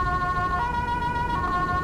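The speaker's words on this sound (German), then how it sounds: "die Sirene angelassen" A police car siren sounds in the game GTA 5 with the LSPDFR police mod, loud and steady with a sustained wailing tone that runs without a break and has no talk over it.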